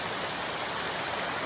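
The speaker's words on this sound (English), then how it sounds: "finally I reached the stream I'm talking about" A forest stream on a hiking trail at Gunung Pulai, running low, makes a steady, close rushing hiss with no pauses and no voices.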